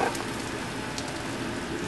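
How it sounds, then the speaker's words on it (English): Garlic sauteing in a hot pan in a restaurant kitchen, a steady close crackling sizzle with no pauses over a couple of seconds. "We're just going to saute that, and then we're going to add in some fresh mushrooms"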